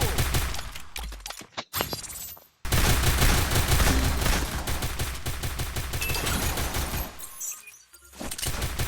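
Gunfire in the Free Fire mobile game, with a USP pistol among the weapons: loud bursts of rapid shots in long volleys, broken by a couple of brief pauses.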